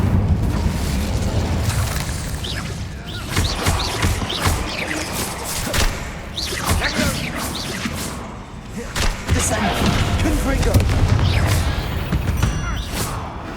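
Incendio fire spell cast in the Hogwarts Legacy video game, with repeated booming, thudding bursts and whooshes over a dense game soundscape, steady and loud throughout.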